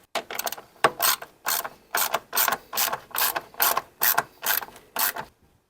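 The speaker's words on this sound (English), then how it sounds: "We're going to tighten down the front." Rapid ratcheting from a socket wrench tightening a mount for Go Rhino E1 electric running boards on a Jeep JK, about a dozen evenly spaced bursts of clicks, close and clear with no talking.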